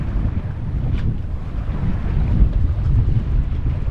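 A sailboat beating close to the wind, about 30 degrees off it, near Novagio Beach in Greece, with a steady low rush of water and wind buffeting the microphone, constant and fairly loud throughout.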